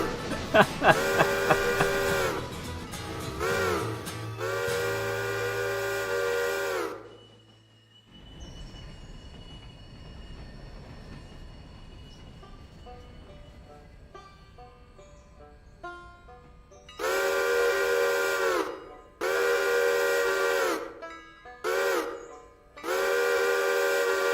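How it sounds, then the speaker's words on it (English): Steam locomotives whistle in a railroad video game, long loud blasts near the start and several repeated blasts near the end, separated by a quieter stretch of rolling train and faint musical tones. "Both engines are whistling their hearts out right now."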